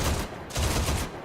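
Vehicle-mounted 12.7mm M2 heavy machine gun firing in a video game, two loud, heavy bursts of rapid thudding shots, close and booming, separated by a short gap.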